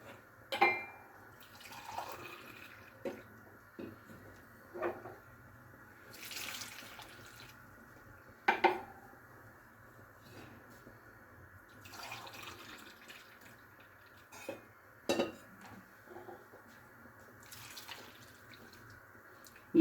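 Four cups of pre-warmed milk poured into a bowl for buttermilk fried chicken batter, a soft liquid trickle and splash with a few sharp clinks and knocks spaced through the pour.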